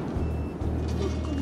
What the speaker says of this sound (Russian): у меня аж сигнализация запищала от машины